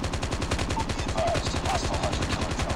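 Rapid automatic gunfire in the mobile shooter game Call of Duty Mobile, a steady stream of evenly spaced shots held at moderate level for the whole stretch.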